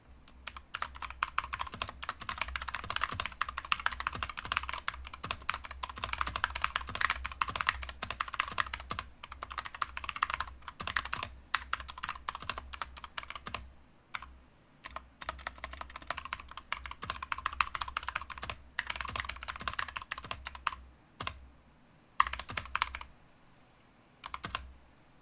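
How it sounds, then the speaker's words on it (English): Rapid, uneven clatter of typing on a computer keyboard continues for about twenty-five seconds, close and moderately loud, with short pauses between bursts and no talking. "I'm gonna be typing to Bono for a moment."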